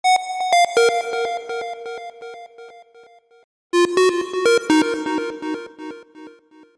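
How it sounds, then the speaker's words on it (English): A bright square-wave synth plays a stepping melody of short buzzy notes, pauses briefly, then continues in a lower register. "it's just literally a square synth"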